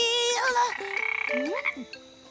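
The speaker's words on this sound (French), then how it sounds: "Mais non, c'est une grenouille, Chavapa." A frog croaks in a run of rapid, pulsing calls, fairly close, against a cartoon-like backdrop of tonal sounds and no talk.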